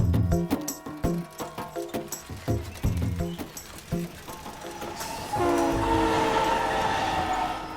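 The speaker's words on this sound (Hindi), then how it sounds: "Chidambaram railway station." A train at Chidambaram railway station: rhythmic clacking of wheels over rail joints rolls past, then gives way to a sustained loud horn blast with a steady rumble beneath, no speech.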